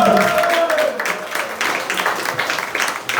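A comedy club audience bursts into loud applause after a comedian's bit. The thick clapping starts strong, briefly overlapping a voice, then thins slightly but keeps going to the end.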